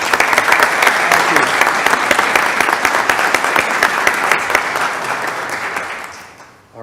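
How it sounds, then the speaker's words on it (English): Audience at a chapter meeting breaking into a round of applause, dense sustained clapping from a room of people that fades out near the end. "Bill, I'm going to give you a round of applause."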